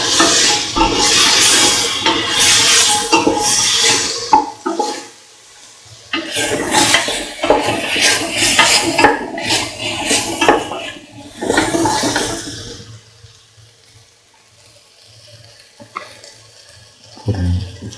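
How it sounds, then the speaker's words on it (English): Garlic potato rice tossed and stirred in a pan, with loud bursts of scraping and clattering against the metal in repeated strokes, pausing into near-silence and a low sizzle toward the end. "Thoroughly mix."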